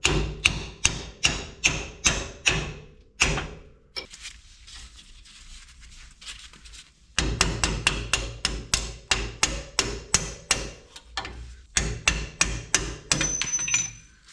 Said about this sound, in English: now we can take the lower shock bolt out